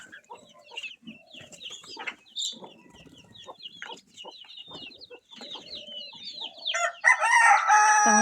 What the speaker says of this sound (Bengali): মুরগি ট্যাক ট্যাক ট্যাক ট্যাক করতেছে। এই আমার মুরগি সব বের হতাচ্ছে, বের হতাচ্ছে সকাল সকাল